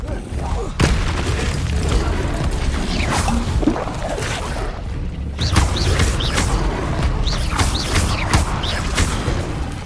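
A spell cast in the Hogwarts Legacy wizard combat game bursts out with booming whooshes and creaking magical impacts, repeated hits and swishes spread across a dense, loud battle mix with no talking.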